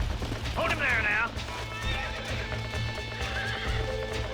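A horse being broken in Red Dead Redemption neighs loudly with a rising whinny early on, its hooves clip-clopping and thudding steadily underneath a low rumbling game score.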